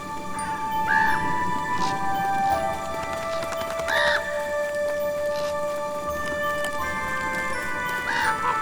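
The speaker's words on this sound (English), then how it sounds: "The eagles and magpies are all doing their best to be the first to spot scraps of food." Magpies and eagles call in a snowy winter forest, with a few harsh, spaced squawks over a steady background hum.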